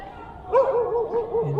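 Several dogs bark and yip in a run of quick, moderately close calls in a battered, war-damaged seaside area, with a little background noise.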